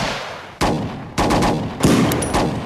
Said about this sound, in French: Monsieur, je crois que c'est des flics sur qui on tire.